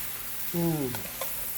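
Food fries and browns in a pan with a faint, steady sizzle, while a short spoken word briefly rises over it.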